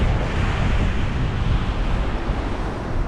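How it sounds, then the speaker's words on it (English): Strong gusting wind buffets the microphone on the Yorkshire coast at Hilston, a steady loud roar with waves surging and breaking beneath it, no voices. "This wind's picked up, it's gusting to like 18, probably 20 odd mile an hour now."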